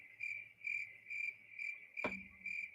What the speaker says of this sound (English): he just played the crickets